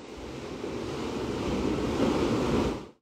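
Ocean surf ambience from a HomePod mini smart speaker washes in a steady broad roar, swelling slightly as a wave builds, then fading quickly to silence.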